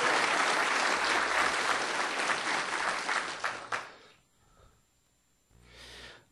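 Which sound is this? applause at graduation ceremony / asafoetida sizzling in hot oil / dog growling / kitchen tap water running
applause at graduation ceremony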